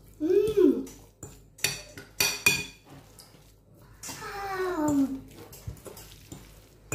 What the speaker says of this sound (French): on prend ça et on va venir tout mélanger comme ça